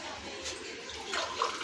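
Water pours steadily into a vessel of rice and urad dal set to soak, a soft continuous splashing rush at moderate level with faint voices nearby.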